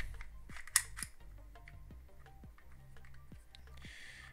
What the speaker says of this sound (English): And we slide the pistol on